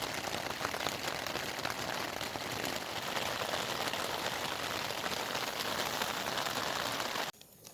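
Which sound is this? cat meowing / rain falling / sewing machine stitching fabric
rain falling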